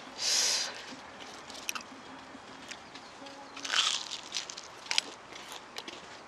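Crisp crunching from a bite of cheese-heavy pizza with sauce, eaten at a restaurant table: one loud crunch near the start and a second cluster of crunches a few seconds later, close up over a quiet room.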